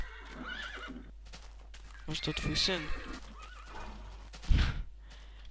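Minecraft horses whinny and neigh in two bursts, with hoof clip-clops, while someone talks over them in Polish.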